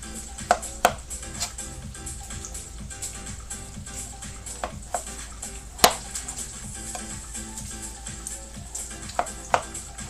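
Knife chopping potatoes on a cutting board for soup, with bacon cooking nearby: sparse sharp clicks and thuds over a steady low kitchen hiss, close and moderately loud.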